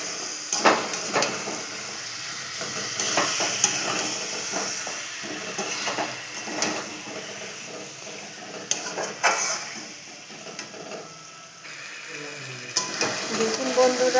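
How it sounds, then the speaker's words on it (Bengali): Chicken pieces sear in a pan with a continuous sizzle and hiss, broken by frequent scraping and clinking as a spatula stirs and turns the meat, with occasional voice underneath. "দিয়ে ভালো করে মাংসটাকে কষাতে হবে।"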